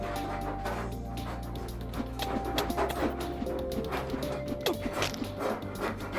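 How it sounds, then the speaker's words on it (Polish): Dog barking and whimpering off to the side, short yips and bow-wows scattered over steady electronic game music and beeps, moderately loud. "E, pies."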